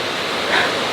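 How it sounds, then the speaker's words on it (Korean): Mountain valley stream on an early-autumn hiking trail near Daeseungnyeong in Seoraksan, a brief steady rush of flowing water, close and continuous with no voices. "와, 이 계곡 물 흐르는 것 좀 보세요."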